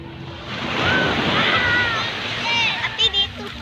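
Sea waves wash steadily onto a beach at Lawi, Lianga in Agusan del Sur, a broad continuous surf roar with wind noise, and brief voices and shouts toward the end.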